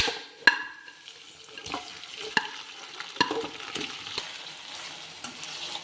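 Soft sizzling of boiled chicken frying in a pan for pepper chicken, with scattered clinks and scrapes of a spoon stirring at an irregular pace; no talking.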